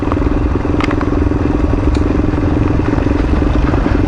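A dual sport motorcycle rides along Tusquittee Road in North Carolina, its engine droning steadily and loudly throughout, with occasional clatter and thumps from the rough surface.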